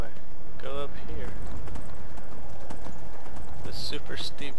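Horse hooves clip-clop steadily as a mount climbs a steep hill in the Skyrim video game, mixed with game sounds while a person talks over it.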